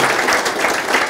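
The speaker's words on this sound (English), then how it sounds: "round of applause" Audience applause at the close of a talk, a dense, steady wash of many hands clapping at once, loud and sustained with no voices over it.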